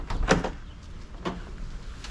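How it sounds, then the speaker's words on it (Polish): The entrance door of a 6 by 2 metre pigeon loft makes two separate bumps and scrapes about a second apart, close and moderately loud over a low background rumble. "Tu mamy tak, drzwi wejściowe."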